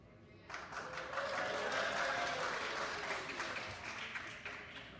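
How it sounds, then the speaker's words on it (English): A round of applause from members on the floor of a legislative House session: dense, even clapping that swells in after a half-second of quiet, holds steady and slowly thins toward the end, heard at a moderate distance. "give me a round of applause"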